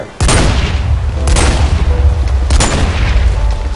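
Repeated loud explosions in the Minecraft Jurassicraft mod, three heavy booming blasts with sharp onsets roughly a second apart, each followed by a rumbling decay, close and dominant with no talk.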